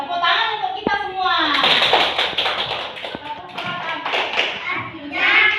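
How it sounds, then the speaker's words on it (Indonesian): A classroom group claps hands in a dense, uneven patter, with children's voices chattering over it throughout. "Tepuk tangan untuk kita semua."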